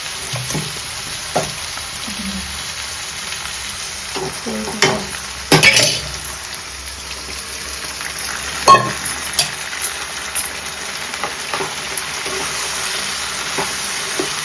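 Greens (bhaji) fry in a pan with a garlic and chilli tempering. A steady, close sizzle runs throughout, broken by scattered clicks and scrapes of stirring.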